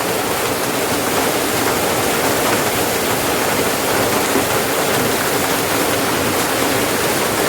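A constant, heavy wash of rain falls on trees, loud and unbroken from start to finish, with no one speaking.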